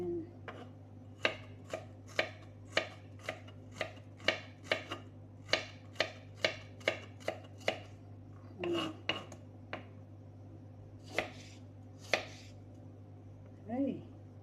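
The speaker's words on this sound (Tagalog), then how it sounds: "maghiwa sa sibuyas" A knife chops an onion into small pieces on a cutting board for a salad: quick, crisp, evenly spaced chops close by, then a few slower, sparser cuts over a low background hum.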